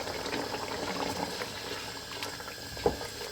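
Mutton chops with yogurt cook in a karahi over high heat, giving a steady, close bubbling and sizzling with one brief louder pop near the end.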